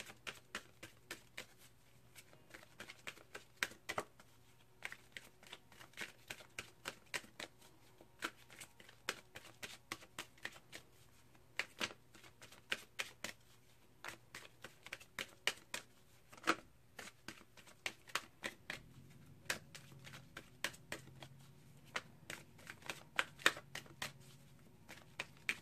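A deck of Gateway Oracle Cards by Denise Linn is shuffled continuously, with quiet, close, rhythmic riffling and tapping that runs steadily throughout.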